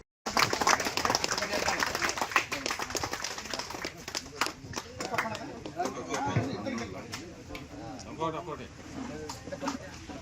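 Crowd at an outdoor cleanliness pledge event in an ST colony clapping in sustained, dense applause with chatter, fairly loud and close, fading slightly but continuing throughout.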